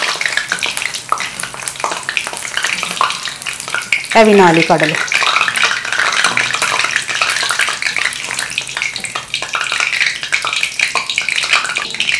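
Loud, continuous sizzling and crackling of gram-flour batter drops frying in hot oil for sweet boondi, with a voice speaking briefly partway through.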